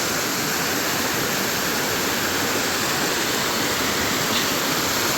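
A small waterfall in Malappuram pours steadily with a loud, dense rushing of water that holds unchanged from start to finish, close by.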